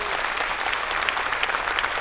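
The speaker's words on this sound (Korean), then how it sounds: "시민 여러분 박수로 큰 힘을 주시기 바랍니다" Citizens at a Suwon city anniversary ceremony clap together in steady, even applause from a large indoor crowd.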